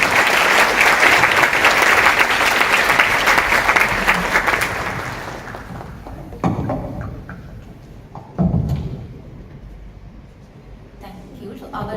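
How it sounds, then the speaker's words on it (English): An audience at a cybersecurity and law conference applauds the panelists, dense sustained clapping that thins and fades into scattered claps, with a voice speaking over the tail. "shall we give a big round of applause for the panelists?"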